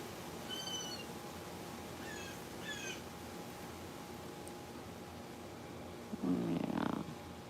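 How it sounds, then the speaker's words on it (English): Small cats, kittens indoors, giving a few short high meows early on, then a louder brief cry near the end over a quiet room hum. "I have two new cats, Charlie and Luca"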